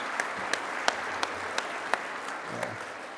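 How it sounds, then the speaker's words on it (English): At an awards ceremony, an audience applauds the awards committee with an even wash of clapping, a few louder individual claps standing out at regular intervals and a voice briefly heard near the end. "Give them a round of applause, too, please."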